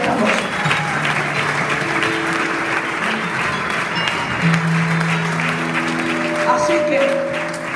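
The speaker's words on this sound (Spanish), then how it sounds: "dan un aplauso fuerte a Cristo en esta noche" Loud, sustained applause from a crowd at a Christian youth convention service, continuous clapping throughout with cheering voices and sustained tones mixed in.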